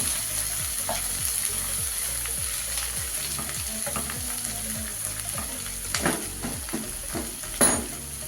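Kerala-style chicken biryani mixture fries with a loud, continuous sizzle in a pan while being stirred, with rhythmic scraping strokes and a couple of sharper knocks of the spoon near the end.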